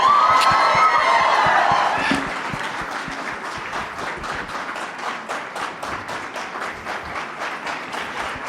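Sustained applause from an audience at a film success event for the movie Court, loud and dense at first, then settling into steady rhythmic clapping that continues to the end without any talk.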